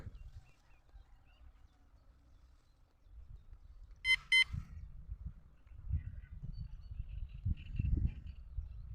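Bite alarm on a carp rod set up with boilies and wheat bait, a short burst of rapid high electronic beeps around the middle, alone over faint outdoor ambience and low rustling.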